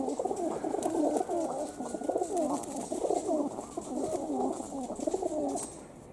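High-flying pigeons coo steadily and continuously in a summer morning flock, a soft, layered murmur from several birds close by, with no voices.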